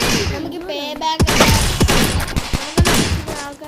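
Gunfire in the video game Dude Theft Wars cracks out in several sharp shots spread irregularly over a few seconds, mixed with a person talking throughout.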